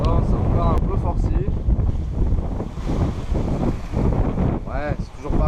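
Strong wind of about 16 knots, gusting to around 20 apparent, buffets the microphone aboard a sailboat at sea, a loud continuous roar with sloshing water beneath it and voices talking intermittently over it.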